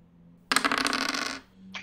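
Eight ten-sided dice rolled onto a hard surface, a sudden burst of rapid clattering and rattling that tumbles for about a second and settles, with a brief final clack, close and alone.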